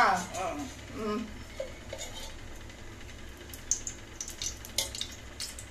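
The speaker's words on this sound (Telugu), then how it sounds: "ఇప్పుడు వచ్చేసి ఎండుమిర్చి అవి వేయించాలన్నమాట" Dried red chillies frying in a little oil in a pan, a steady soft sizzle under a voice talking, with a few light clinks of a spoon against the pan.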